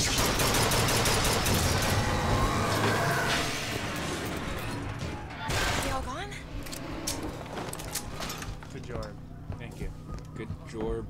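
Gunfire in the video game Bioshock Infinite during a fight with a Patriot, rapid loud shots and impacts early on, then scattered bangs and clatter beneath ongoing game dialogue.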